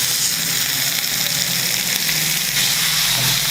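Crushed spicy masala fish fries in a pan with a steady, dense sizzle that stays loud and unbroken throughout, with no voices over it.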